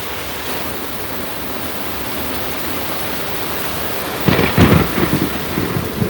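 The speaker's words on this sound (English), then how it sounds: "Finally, the storm at midnight." Steady heavy rain hisses throughout a midnight thunderstorm, then a loud rumble of thunder rolls in near the end.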